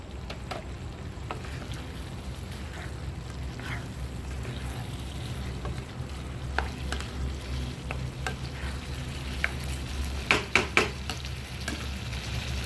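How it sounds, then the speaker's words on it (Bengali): Fried chicken pieces stir-fried with chilli powder in a pan for dry chilli chicken sizzle softly under a low background hum, with spatula scrapes and a burst of sharp clatters near the end. "এবার দিয়ে এই চিকেন ভাজাগুলো দিয়ে দেবো।"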